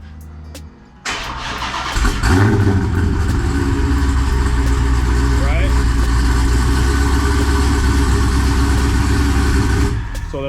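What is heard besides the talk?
car engine remote starting and idling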